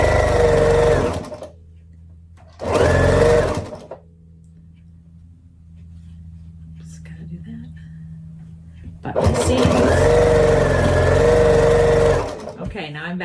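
A sewing machine stitching scrappy quilt pieces runs in loud bursts, two short runs early and a longer run later, with a low steady hum between them and little talk.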